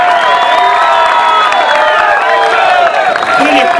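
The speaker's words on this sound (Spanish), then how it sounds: "Le damos un fuerte aplauso" An audience at a cultural association event gives a loud, sustained roar of applause and cheering, a dense crowd wash with shouting voices over continuous clapping throughout.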